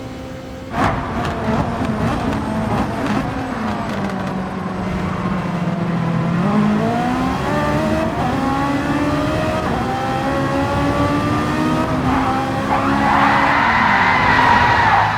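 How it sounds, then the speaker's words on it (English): Racing cars in Gran Turismo 7 at Deep Forest roar and rev loudly throughout, with engine pitch sweeping down and back up as a Ferrari slides off track and crashes into a Porsche, no voices present. "It seems the Ferrari clipped the grass and started sliding. The snap and correction of it made him hit the Porsche and they both flew off."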